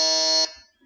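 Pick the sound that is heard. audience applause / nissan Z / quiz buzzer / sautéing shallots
quiz buzzer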